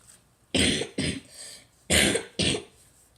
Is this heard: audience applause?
no